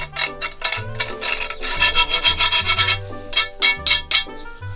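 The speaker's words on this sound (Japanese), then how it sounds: "小口はヤスリでちょっとこすってバリを取ります" A hand file rasps back and forth across the freshly cut end of an Erector steel pipe to remove burrs, a close, loud series of rhythmic rubbing strokes with brief pauses.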